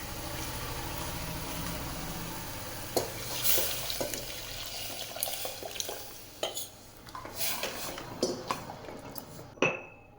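Cooked, mashed dal poured into a pan of sautéed onions and tomatoes for sambar: soft wet sloshing and stirring with a few sharper clinks of a utensil against the pan, close and fairly quiet, with no voices.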